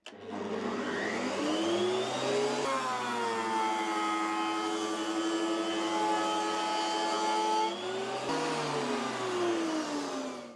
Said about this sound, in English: As the timber engages the cutters are doing a good job removing the timber